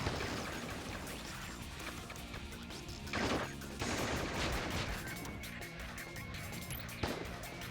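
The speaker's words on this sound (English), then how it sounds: "Their ships are continuing with laser fire." Laser fire from enemy ships in the Shadow the Hedgehog video game, repeated blasts and crashing impacts sounding over a dense, loud game soundtrack with bursts around the middle and near the end.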